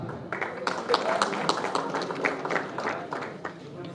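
An audience at a media cup event applauds presenters with moderate, steady scattered clapping that runs under a talking voice.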